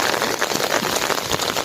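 Heavy rain pours down during a storm in Laos amid flooding, a dense, steady hiss of drops striking surfaces close by, loud and continuous with no voices.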